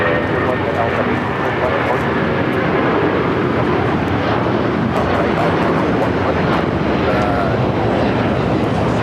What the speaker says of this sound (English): We do have a United 757 rocking and rolling down at 25 right.